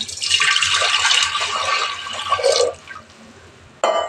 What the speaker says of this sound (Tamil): இப்போ நான் ஒரு சொம்பு தண்ணி ஊற்றிக்கிறேன்.